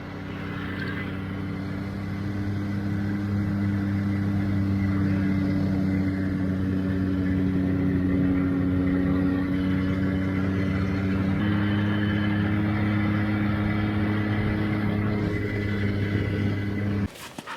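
A vehicle creeps slowly through a snowy whiteout in Svalbard, its engine a steady, loud mid-pitched drone that holds almost unchanged throughout with no talking, ending in a brief knock.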